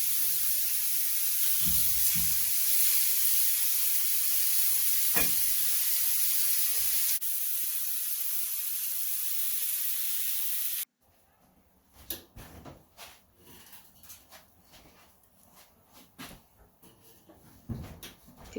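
Burger frying in olive oil and salt in a cast iron skillet, a steady loud sizzle and spray for about ten seconds, then it cuts to quieter scattered knocks and clatter.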